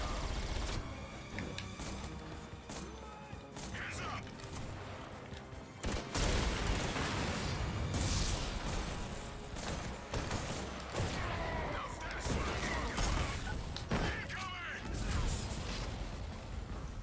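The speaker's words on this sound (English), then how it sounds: "that's a guy chucking nades" Grenade blasts and heavy gunfire in the shooter Army of Two: The 40th Day, with dense overlapping bangs and booms, a big hit near six seconds, and a voice talking over the battle.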